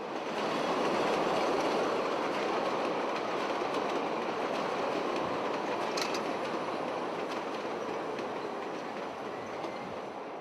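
Chicago subway train running on elevated tracks beside buildings: a steady, dense rumble with faint clickety-clack and a brief wheel squeal midway, sustained and fairly loud throughout.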